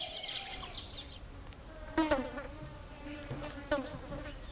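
Flies buzz around a wild animal resting in a forest, a persistent nearby droning whine that rises and fades with a few sharper bursts, with no talking.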